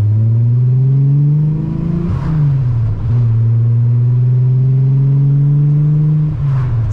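A six-cylinder VW Golf engine revs loud and close, its deep harmonic drone climbing steadily in two long pulls with a brief dip between them as the car accelerates hard in low gear.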